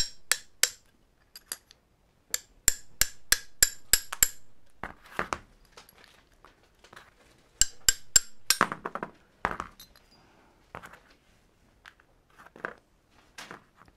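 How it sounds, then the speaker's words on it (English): Metal punch lightly tapping around the inside of a Dramm MS Series hydraulic sprayer pump, a run of sharp, close metallic clinks in quick bursts with quiet gaps between them. "You can just take a punch and lightly tap around the inside so you don't damage that spacer."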